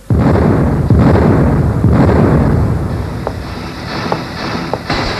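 A heavy, booming house blast, as in an old 2004 TV serial, with a rumbling, roaring aftermath that keeps churning, followed by a few smaller cracks and pops.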